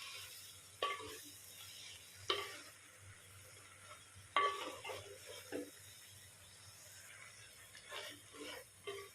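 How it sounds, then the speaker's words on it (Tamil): Brinjal and onion sautéed in a pan, giving a low steady sizzle with intermittent scraping and clinking stir strokes, close and alone without talk. "இப்போ இந்த ஆனியனோட இந்த கத்திரிக்காயை ஒரு 2 minutes பிரட்டி விட்டு போங்க"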